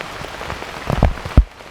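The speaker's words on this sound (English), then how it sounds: "hopefully this rain lets up a little bit for us" Rain patters steadily on a surface outdoors during a turkey hunt, with a few louder drops or taps against a close, soft background hiss and no voices.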